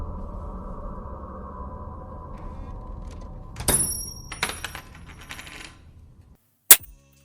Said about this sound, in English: he also has coins being dropped.